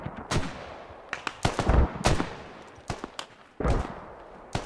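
Gunfire in the military shooter game Squad: sharp rifle shots and short bursts ring out at irregular intervals, some close and loud, others echoing from farther off, with no talk over them.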